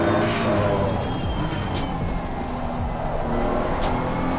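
Race car engine in Assetto Corsa Competizione at the Nürburgring, loud and continuous as it downshifts, brakes lightly and comes back on the throttle, with rising engine tones and brief tire squeal.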